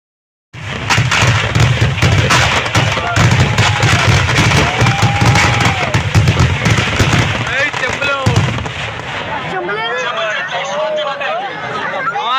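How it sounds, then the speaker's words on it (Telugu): Firecrackers burst in a rapid, dense crackling barrage, loud and close, with people chattering in the background. "ఇక్కడ బాంబులు అయితే పేలుస్తున్నాం కదా"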